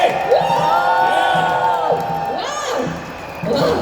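A lively crowd cheers and whoops, with rising shouted calls and excited voices swelling and fading across a few seconds.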